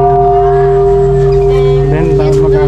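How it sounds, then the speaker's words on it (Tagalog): A bell rings with a sustained, steady hum of overlapping tones that hang in the air, while faint voices stir toward the end. "Tama, bell nga."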